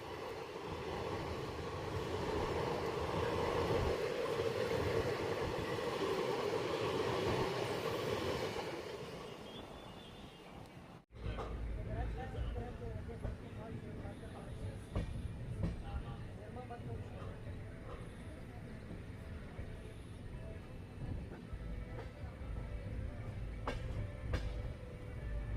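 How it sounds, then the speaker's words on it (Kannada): A passenger train running from Miraj to Castle Rock passes near Miraj outer, a loud steady rumble of rolling wagons for about ten seconds, then a sharp jolt and a lower continuing rattle of the train with traffic-like background. "ಮೀರಜಿಂದ ಕ್ಯಾಸ್ಟಲ್ ರಾಕ್ ಹೋಗೋ ಪ್ಯಾಸೆಂಜರ್ ಟ್ರೈನು ಜಿಂಗ್ ಆಗ್ತಿದೆ ಮೀರಜ್ ಔಟರಲ್ಲಿ"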